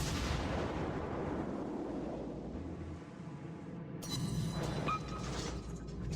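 Naval gunfire in World of Warships from the Soviet cruiser Murmansk: a dense, continuous rumble of heavy booming blasts with a sharper crack near the end, loud throughout, no talking.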